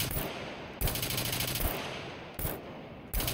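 Automatic gunfire from the survival video game Scum rattles in rapid, sustained bursts, several of them back to back with brief gaps, loud and close.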